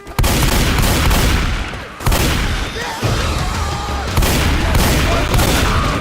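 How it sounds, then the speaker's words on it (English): Loud, dense gunfire in the Left 4 Dead 2 video game, rapid overlapping shots and booming bursts filling the span, with brief gaps between volleys and a little talk mixed in. "Quit shooting me."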